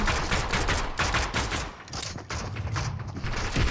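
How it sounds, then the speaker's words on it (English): Rapid shots from a new combat pistol in a shooting video game, dense and loud with overlapping cracks and mechanical clatter, dipping briefly before another run of fire, no talking. "Alright, so new combat pistol."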